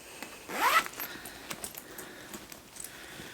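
A zipper on a pocket of a Bagstock Designs Trailblazer convertible backpack is pulled open in one quick, close, rasping zip that lasts under half a second, followed by faint handling rustles.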